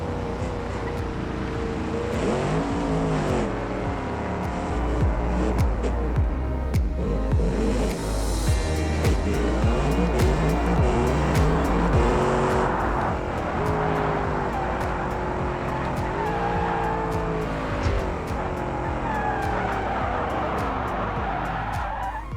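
Budget drag car in BeamNG accelerates hard, its engine revving and rising in pitch through repeated gear changes, with tire noise throughout, loud and continuous.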